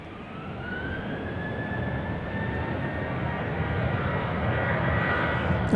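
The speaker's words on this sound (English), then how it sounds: "Got a plane taking off from the other side." Jet airplane taking off at Dallas Love Field, a steady broadband engine roar with a rising whine that builds gradually in loudness throughout, heard from across the airfield with no talk.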